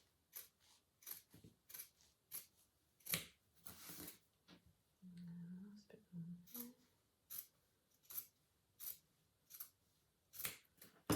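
Scissors trimming the seam allowance of a sewn jacket, a string of crisp close snips in an uneven rhythm with a short pause in the middle, where a voice murmurs briefly.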